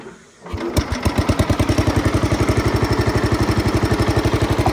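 A small engine starts and settles into a steady, fast, evenly pulsing run after the clutch is engaged, loud and close with no talk over it.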